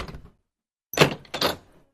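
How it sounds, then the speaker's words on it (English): A door swings open with a brief creak and thunk, a short muffled knock-like sound first, then a pause before two close bursts of wooden rattle and latch noise; no voices. "The rabbi opens the door"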